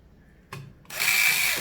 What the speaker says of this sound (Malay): kita dah boleh masukkan skru dia